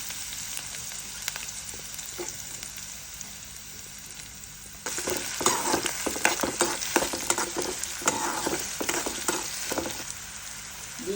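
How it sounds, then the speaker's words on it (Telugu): Cumin, mustard seeds, green chillies and onions hit hot oil for a masoor dal tomato pappu. A quiet hiss gives way to a sudden, loud, crackling sizzle that keeps popping and spattering up close. "నూనెలో జీలకర్ర ఆవాలు పచ్చిమిర్చి ఉల్లిపాయలు వేసుకోండి"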